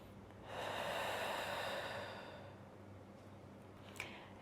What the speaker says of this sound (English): Taking a breath here.